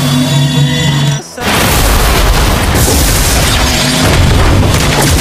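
A heavy booming explosion bursts in as a turret is destroyed in the Mobile Legends video game. It follows a short dip, then a loud, noisy roar rumbles on over steady game background sound.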